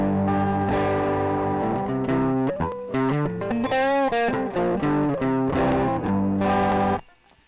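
Electric guitar played through a distortion effect on a Valeton GP-200 multi-effects processor, a run of thick, saturated sustained notes and chords with bending pitch, loud and close, ending abruptly.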